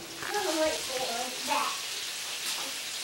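Floured wild turkey breast frying in hot oil gives a soft, steady sizzle and crackle at moderate distance, heard briefly with faint voices in the background.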